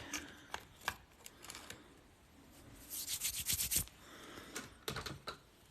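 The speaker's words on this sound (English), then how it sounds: "And I'm chopping up little ladybug murini." Small ladybug glass murrini for fused glass are chopped in a studio, giving faint, sharp clicks and taps scattered irregularly, with a brief cluster of quick scraping snips in the middle.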